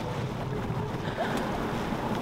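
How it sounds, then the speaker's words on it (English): A sailboat sails upwind on a flat, calm sea in light wind of roughly 10 knots, giving a soft, even wash of water and air around the hull, fairly quiet and continuous with no voices. "Blissful upwind sailing."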